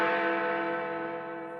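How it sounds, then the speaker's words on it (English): A church bell tolling in the night, one deep, resonant stroke that rings out strongly and slowly fades, with no voices over it. "soon the bell tolled"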